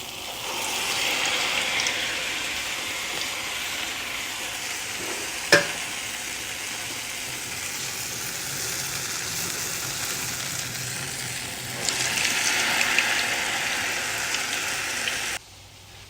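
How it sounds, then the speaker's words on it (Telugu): Vadas frying in hot oil on low heat, a continuous close sizzle with stirring, one sharp clink midway and a louder surge of bubbling near the end before it cuts off, no speech. "తర్వాత సిమ్లో పెట్టి వేయించుతున్నా"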